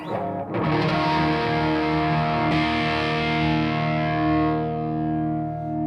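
Heavily distorted electric guitar chord through a Caline CP-15 Tantrum distortion pedal rings out thick and sustained, with a crunchy saturated tone that slowly decays.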